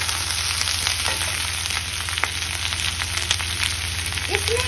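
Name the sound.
green chillies frying in pan for chilli paneer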